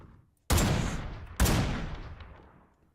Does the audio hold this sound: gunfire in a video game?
yes